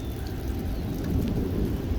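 Steady heavy rain pours during a severe thunderstorm over Montreal, with a deep continuous rumble of thunder beneath it, close and enveloping, and no voices.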